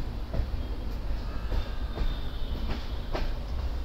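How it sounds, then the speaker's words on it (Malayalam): A local train bound for Chennai Beach rumbles past near Chennai Egmore, with a loud, broad steady roar and sharp rhythmic wheel clacks repeating about every half second. "ഒരു ലോക്കൽ ട്രെയിൻ വരുന്നത്"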